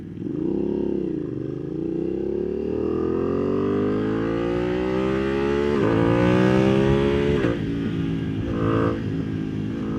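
A Ducati Panigale V2 motorcycle engine revving steadily upward in pitch, a loud, close, continuous growl that climbs over several seconds, dips briefly, and then holds.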